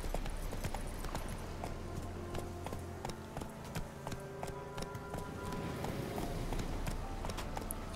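Horse hooves clip-clop at a steady riding pace in The Witcher 3, a continuous rhythmic beat at moderate volume with faint game ambience and occasional speech in the background.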